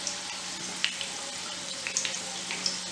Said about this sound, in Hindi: तो ये डाल दिया हमने रिफाइंड ऑयल।